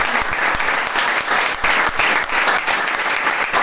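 A church congregation breaks into loud, sustained applause praising the Lord, dense clapping from many hands filling the room without pause.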